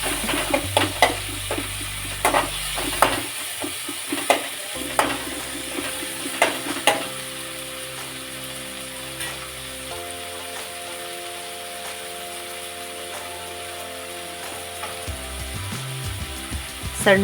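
Chopped tomato goes into a hot pan for okra fry, with steady sizzling broken by a series of scraping, clattering stirs early on, then a calmer fry continuing at moderate volume.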